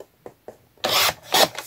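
A paper card is trimmed down to 12 cm: a few light taps, then two close, dry rasping cuts through the card, the second shorter, with no talking.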